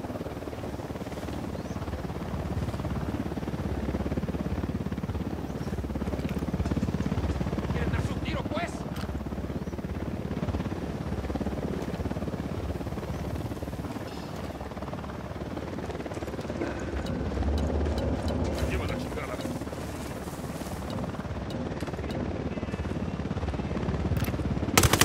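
A helicopter's rotor thrums steadily and loudly throughout in the video game Ghost Recon Wildlands, mixed with game sound effects, and voices talk over it now and then.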